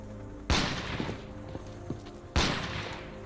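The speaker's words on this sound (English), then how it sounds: "Someone's shooting at me, something interesting. I haven't heard that gun sound before." Two sharp SKS rifle shots ring out in the game STALKER Expedition, about two seconds apart, each a loud crack with a ringing tail over a low, steady background hum.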